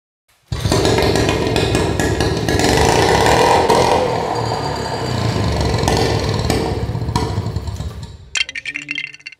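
A vintage British Seagull outboard engine catches after a brief silence and runs roughly with a loud, rapid, buzzy two-stroke chatter. It bogs slightly midway, then cuts out near the end, leaving a few sputters and metallic clinks.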